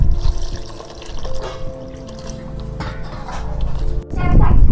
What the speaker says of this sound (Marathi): आता मी पाण्याने धुवून घेते